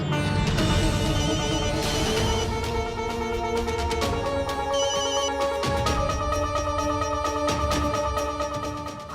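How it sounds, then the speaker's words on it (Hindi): A phone ringtone plays a bright, repeating electronic melody, loud and close, with no talking over it. "देखिए प्रभात भैया का फोन"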